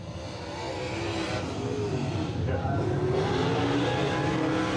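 A race car runs a time trial lap at Wartburg Speedway, its engine a steady, sustained roar carrying down the back straightaway at moderate distance, with faint announcer talk underneath.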